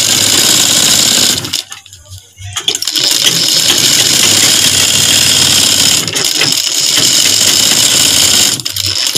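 Sewing machine running steadily while stitching right along the bottom edge of a daman, a long continuous whir with a short pause near the start, loud and close.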